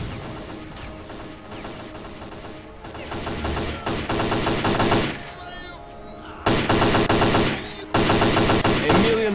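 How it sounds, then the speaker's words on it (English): Repeated explosions and gunfire in the shooter video game Stalker: Clear Sky, with heavy loud bursts arriving in several waves, dense crackling shots between them and short quieter gaps, with game dialogue mixed in. "That's a lot of grenades coming in."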